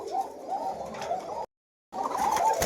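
Koka pigeon cooing at a farm loft, soft repeated coos in two stretches separated by a brief silence, close and moderately loud.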